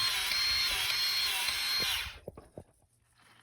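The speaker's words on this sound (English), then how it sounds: "there she's squirting the old grease out" A Milwaukee cordless grease gun with a long hose pumps grease into a truck drive shaft, a loud steady motor whine for about two seconds, then it stops and a few faint clicks and handling knocks follow.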